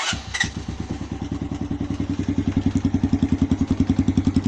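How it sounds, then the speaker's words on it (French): A 50cc scooter engine with a baffled exhaust sputters to life after a quick push-button start, then settles into a steady, rapid putt-putt idle, close and fairly loud. "vous avez juste à appuyer sur le démarreur puis normalement ça démarre"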